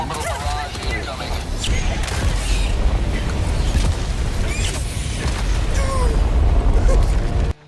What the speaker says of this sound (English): 380mm is a barrage of missiles from your super destroyer